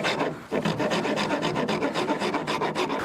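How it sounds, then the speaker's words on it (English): A half-round rasp scrapes a wooden longbow handle in steady back-and-forth strokes, loud, close and rhythmic, each rasping pass running into the next. "my primary tool is a half-round rasp"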